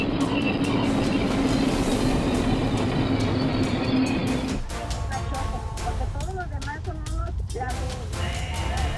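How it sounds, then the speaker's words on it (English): Train hauling an empty freight car in Dunkirk, New York, a loud steady rumble and hum that drops away midway, followed by squealing wheel tones and clattering over the rails. "a train hauls an empty freight car in Dunkirk,"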